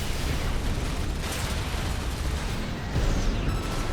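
An Assault Armor burst in the game Armored Core 6 makes a dense, roaring explosion, loud and continuous across the whole stretch, with a rumbling low end and a swell near the end.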